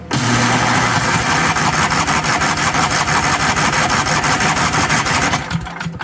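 A Snapper Comet riding mower's small engine runs loud and close with a steady rapid chugging rhythm, then cuts out near the end.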